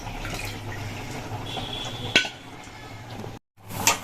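Dishes and pots being scrubbed and rinsed in a kitchen, with running water, scraping and a few sharp metallic clanks, close by and fairly quiet.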